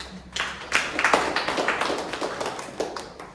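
A brief burst of hand clapping from a small group of about twenty people at a Toastmasters club meeting, uneven claps building and continuing for a few seconds.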